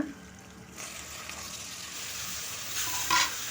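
Tomato tipped into frying ginger paste for egg biryani and stirred, a steady soft sizzle that swells slightly near the end with a brief brighter scrape, close and with no talk.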